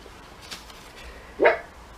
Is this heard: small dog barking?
yes